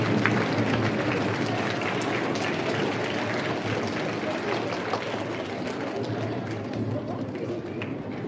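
Students at a secondary school assembly give a boy a round of applause, steady continuous clapping from a large room of people that tapers slightly toward the end.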